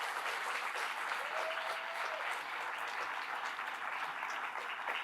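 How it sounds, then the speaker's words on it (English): Applause for musicians at the opening of the 40th European Green Party congress: a large audience claps steadily in a continuous, full-room roar, with a brief faint tone passing under it. "a big round of applause to our musicians"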